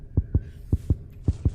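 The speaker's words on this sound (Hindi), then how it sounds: "दिल की धड़कन तेज चल रही, धक धक धक हो रहा है" A heartbeat thumps in a granny house escape video game, three paired lub-dub beats at a steady, fairly quick pace, low and throbbing over a faint hum.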